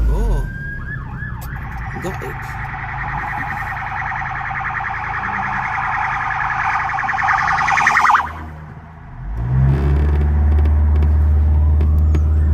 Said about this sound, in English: I'm hearing siren.